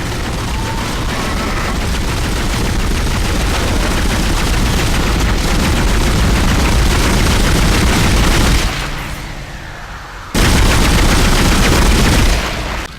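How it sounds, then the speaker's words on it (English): Pulse rifle from the video game Dead Space fires in sustained, rapid automatic bursts with booming impacts, dipping briefly in a short pause before another loud burst resumes. "The pulse rifle."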